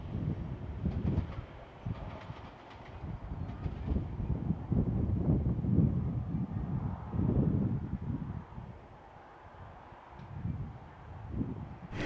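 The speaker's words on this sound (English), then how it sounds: "an empty coal train hauled by the Pacific National's TT class number 102 and 107 top and tailing" An empty coal train hauled by Pacific National TT class locomotives 102 and 107, top and tailing, rumbles past in New South Wales, with steady rolling wagon noise and some wind buffeting over about twelve seconds.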